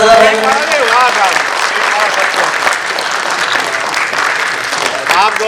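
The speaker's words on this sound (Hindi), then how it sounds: "जोर से तालियां बजाइए एक बार जरा भाई" Audience applause fills the hall at an Uttar Pradesh artists' association gathering, a dense, steady clapping that runs the whole clip at close range, with voices heard over it at the start.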